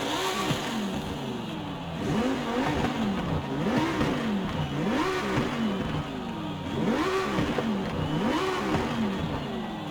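Loud V10 race car engine in Forza Horizon 5 cycling through rising and falling revs as gears shift, steady and close with no talking.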